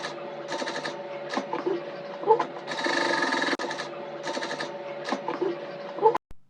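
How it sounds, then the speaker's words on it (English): A sewing machine runs a loose stitch through layered crinoline mesh, whirring in repeated short bursts with brief pauses, close and steady, ending with a click. "I'll run the loose stitch to join both pieces of the crinoline mesh together."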